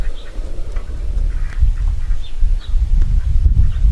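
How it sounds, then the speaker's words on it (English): Pet ducks quack a few times outdoors while being fed, their calls scattered and light over steady, heavy low rumble and handling noise. "the ducks are here"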